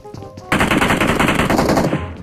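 Rapid, closely spaced SKS mini rifle shots in a shooter video game, a loud continuous burst of gunfire following a brief quieter moment.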